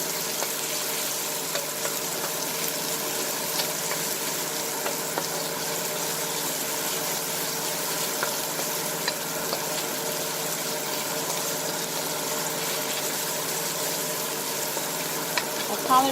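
Vegetables saute in a hot pan for Jamaican Ital cooking, giving a steady, even sizzle that holds at a constant level throughout without a break.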